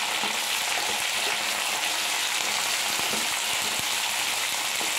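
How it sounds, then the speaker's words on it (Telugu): Carrot, potato and tomato frying in oil for a semiya upma give a steady, dense sizzle with faint scattered pops throughout, close and fairly loud, with no talking. "క్యారెట్, ఉర్లగడ్డ, టమాటా ఇవన్నీ ఆయిల్లో మగ్గనివ్వాలి"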